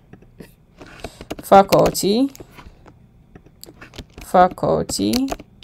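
Light, irregular clicking from typing on a computer keyboard, faint and partly under a person talking.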